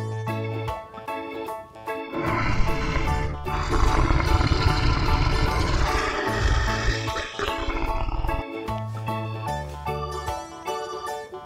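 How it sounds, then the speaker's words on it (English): An orange lion roars over background music, a sustained roar swelling in the middle of the clip while melodic instrumental music plays throughout. "Orange color lion."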